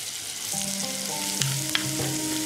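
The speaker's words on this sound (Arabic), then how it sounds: "زيت الزيتون مع الزبدة لحتى نقلي البصل مع الحر" Minced onion fries in olive oil and butter with a steady, close sizzle and a few sharp spatula scrapes and clicks as it is stirred, no voices present.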